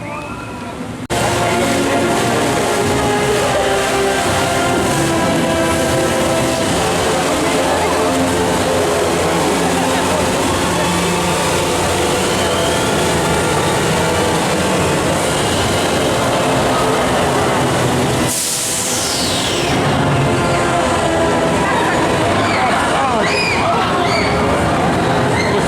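A Talocan top spin ride at Phantasialand runs for a long stretch, a loud, dense roar of machinery, rushing air and music-like tones, briefly dropping out near the end before surging again, with voices mixed in.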